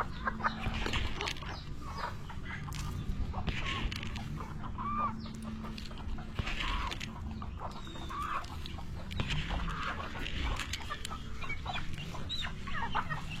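Chickens cluck repeatedly in short, scattered bursts at close range, with a faint steady background hum.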